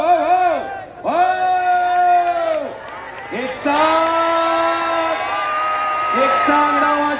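Wrestling match crowd at a kushti bout in Baramati, with loud amplified shouting over a PA and a background of crowd noise and cheering, rising and falling in long drawn-out calls.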